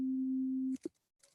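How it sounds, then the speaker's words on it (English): A synthesized sine tone, an organ fundamental harmonic set to 60%, holds perfectly steady and pure for about three quarters of a second, then cuts off, followed by brief faint clicks and noise. "Sounds like a sine wave."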